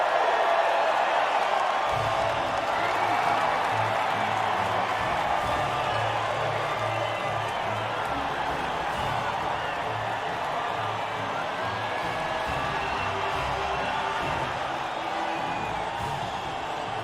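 Podium crowd cheering in the racing game F1 2020 after a Formula 2 race in Bahrain, a constant roar of distant cheers and whoops that runs steadily throughout.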